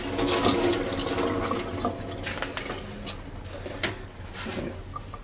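Water splashes and trickles as a wet Norwex mop is wrung out, with irregular drips and sloshing bursts close by and no talk.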